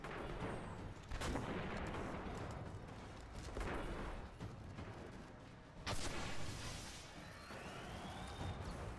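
Heavy rocket fire in the shooter game Destiny, with several booming blasts breaking through a dense, rumbling wash of battle noise, the loudest bursts near the start and around the middle.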